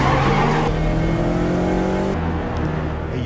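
A stolen police car speeds away, its engine roaring loudly and continuously as it accelerates, with tires and road noise close by and no talk.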